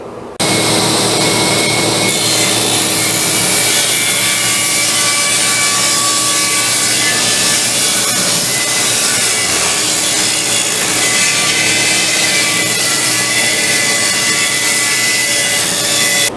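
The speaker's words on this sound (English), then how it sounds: "So let's make a cut right through there at 3/4 of an inch." A saw cuts steadily through oak and pine stock at three-quarters of an inch, giving a loud, continuous, rasping whine that runs alone for the whole stretch.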